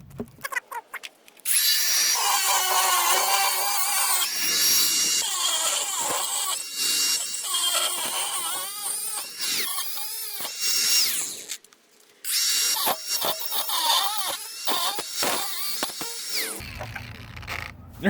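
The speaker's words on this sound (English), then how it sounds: "First, we're going to do the Ridgid Gen 5 angle grinder with the 4 amp hour battery" Ridgid Gen 5 brushless cordless angle grinder on a 4 amp hour battery, fitted with a new Diablo metal cut-off disc, cutting metal: a loud, high shrieking whine with grinding rasp, dropping out briefly twice as the cut stops and restarts.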